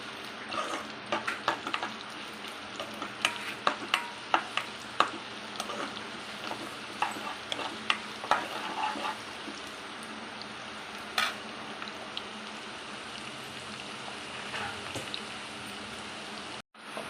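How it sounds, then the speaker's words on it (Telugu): Onions and thin-sliced green chillies fry in a pan, a steady close sizzle with scattered crackles and pops, a few sharper spatters standing out, alone without talk until it cuts off near the end. "బాగా ఒక 2 మినిట్స్ ఇలా ఫ్రై చేసుకోవాలండి."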